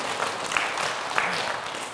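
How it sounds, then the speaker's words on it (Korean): An audience at a Buddhist dharma talk claps together in a steady, dense burst of applause, filling the space evenly for a couple of seconds. "박수 한번 쳐주세요"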